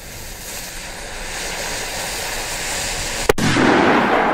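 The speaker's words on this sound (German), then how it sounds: "Und jetzt die beiden spanischen Böller. Zuerst der blaue und dann der grüne." A Spanish El Gato firecracker bursts once with a sharp, loud bang near the end, preceded by steady outdoor background noise and followed by a lingering rush of echo.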